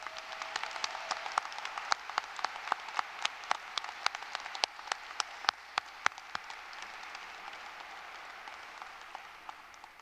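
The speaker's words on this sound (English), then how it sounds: "please give them a large round of applause" An audience at a spring commencement ceremony applauds retiring faculty. The clapping is steady and sustained, the crowd sounds somewhat distant, and a few louder individual claps stand out over the general patter.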